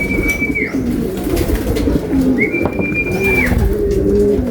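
A racing pigeon coos in a loft, repeated low throaty calls close to the microphone over a busy background of other birds and soft shuffling, with no voices.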